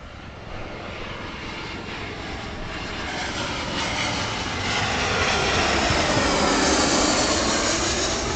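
A Jetstar airliner on approach to Gold Coast Airport roars overhead, its engine noise building steadily from a distant rumble to a loud, broad whoosh over several seconds, with no talking.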